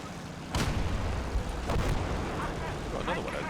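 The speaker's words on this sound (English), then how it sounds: "So much artillery. It's ridiculous." Artillery fire in the video game Call to Arms: Gates of Hell, German Conquest campaign: a heavy boom lands about half a second in, then further rumbling blasts follow over a continuous low battlefield roar.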